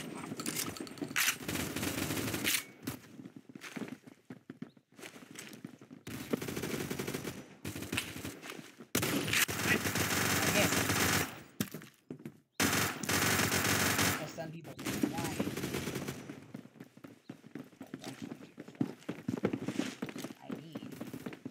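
Rapid automatic gunfire in the video game Phantom Forces, repeated loud bursts of shots with brief gaps between, close and dominant, with a person talking in the quieter moments.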